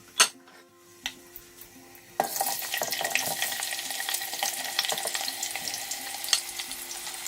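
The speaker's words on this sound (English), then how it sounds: "once it's heated I'm gonna start off by frying my onions" A few light clicks, then a sudden loud sizzle as onions hit hot oil for jollof rice, crackling steadily and close by.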